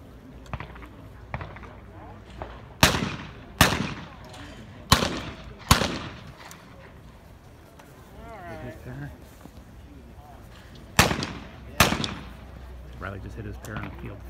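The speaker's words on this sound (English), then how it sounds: "He's come over to shoot some skeet." 28 gauge shotguns fire at skeet targets at a championship shoot, giving about eight sharp, loud reports spaced a second or so apart, some in quick pairs, while a commentator talks throughout.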